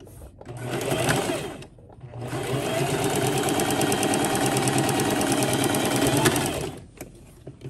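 A sewing machine stitches down a fluffy American flag dog bow tie, starting with a short run, pausing briefly, then running in a long, loud, steady burst before stopping.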